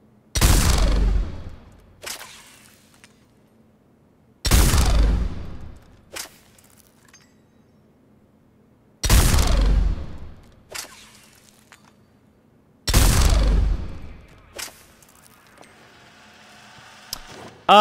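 Four heavy, booming shots from the Executioner pistol in Mass Effect 3, spaced about four seconds apart, each followed by a quick sharp mechanical click and a decaying tail, loud and isolated with near-silence between.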